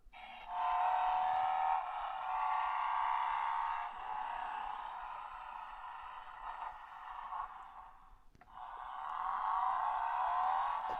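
Spin Master The Batman Batmobile toy pouring out a steady electronic engine roar through a small speaker, with a revving drag-racing whine that drops out briefly and then surges back, loud and close.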